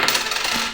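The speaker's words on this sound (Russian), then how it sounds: "вложим сюда монеты" Coins dropped into a small coin purse give a short burst of metallic jingling and clinking, close and fairly loud, with no voices.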